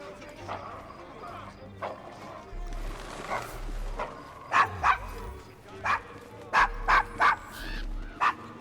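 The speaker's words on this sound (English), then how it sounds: "Is your dog quite all right?" In Assassin's Creed Syndicate, a dog barks in a run of sharp, fairly close barks that grow more frequent toward the end, with horse hooves clopping and people talking in the background.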